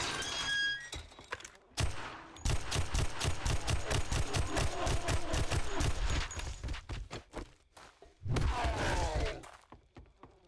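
Rapid bursts of automatic gunfire in the survival game 7 Days to Die, a long run of evenly spaced sharp shots followed by a shorter burst after a brief pause, loud and close over low ambient game noise.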